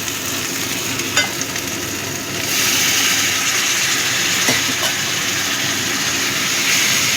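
Koi fish curry sizzles in hot oil while being stirred in a pan, a loud continuous frying hiss with occasional scraping stirs that grows fuller partway through, close and with no talking.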